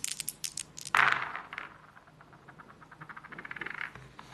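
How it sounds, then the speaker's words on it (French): Four dice clatter and tumble across a surface during a War of the Ring board game in a quick burst of clicks, then a lighter scattered rattle follows; no one speaks. "Donc j'ai 4 dés à lancer."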